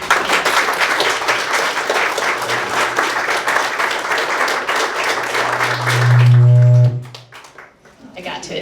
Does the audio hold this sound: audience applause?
yes